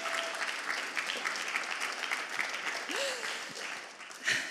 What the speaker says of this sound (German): Das ist ein verdienter Applaus